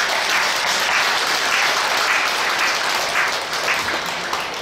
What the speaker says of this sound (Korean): 교사분들에게 우리 감사의 박수 하겠습니다.